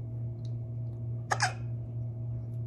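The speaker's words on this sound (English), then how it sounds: "He's been having the hiccups like all week." A person gives a single sharp hiccup, close and clear, over a steady low hum in an otherwise quiet room.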